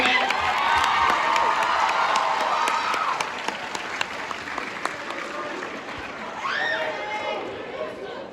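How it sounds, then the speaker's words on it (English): Students at a school assembly break into loud applause and cheering that fills the hall, with shouts and chatter mixed in and the clapping thinning out toward the end. "Can you give the staff members up here a nice round of applause?"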